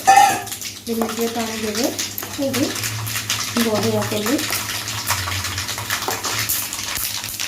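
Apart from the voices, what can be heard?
pouring water into horse gram dal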